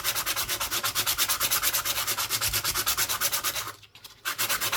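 A coin ring is sanded with sandpaper in steady, rapid back-and-forth strokes, loud and close, with a short pause near the end before the rubbing resumes.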